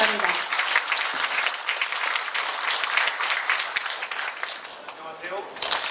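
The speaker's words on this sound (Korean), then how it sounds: "큰 박수 환영해 주시기 바랍니다." Enthusiastic audience applause welcoming the county governor of Yangyang at a Gangwon provincial briefing session, continuous close clapping from many hands across the clip, with brief voices at the start and end.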